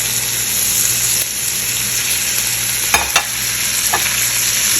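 Three-colour capsicum and chili sizzle loudly in a pan, a constant close frying hiss with a couple of sharp stirring knocks near the end.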